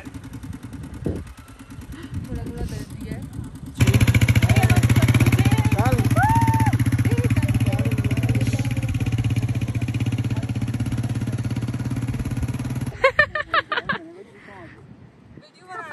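A motorcycle engine runs loud and steady through the middle stretch during a riding lesson in a remote mountain village of Kashmir, with a constant low drone and rattle, and people talk before and after it.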